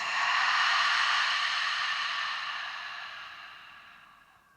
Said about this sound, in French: Et une dernière longue expire.